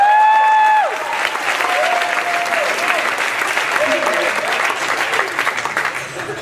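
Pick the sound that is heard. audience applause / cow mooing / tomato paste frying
audience applause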